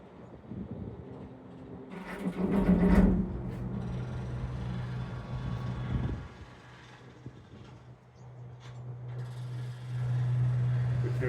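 Cable car machinery on the Carmel Mountain aerial tramway in Haifa: a steady low mechanical hum with ratcheting and gear clatter, and a louder clanking burst early on.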